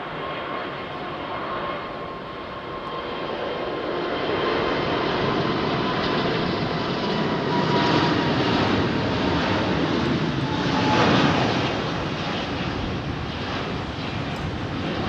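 A low-flying airliner lands on runway 27R at London Heathrow, its broad engine roar steady and loud throughout and swelling slightly as it passes nearby.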